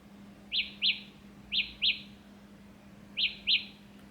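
A high electronic chirp from Samsung Galaxy Buds Pro earbuds in locator mode sounds in quick pairs, three double-beeps at steady intervals over a low background hum.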